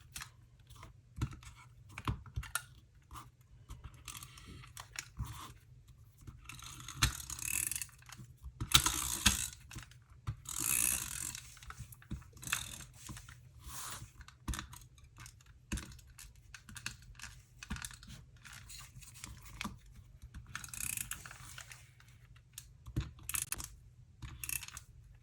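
A misbehaving tape roller gives off irregular clicks, ratcheting snaps and scratchy mechanical bursts over a low steady hum, close up and fairly quiet, with no talking.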